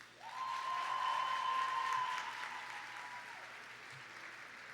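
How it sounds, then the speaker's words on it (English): Applause at a gala honouring the organizing team, a broad steady wash of clapping from a large room that gradually softens, with a faint tone ringing underneath. "I think they do deserve a big round of applause"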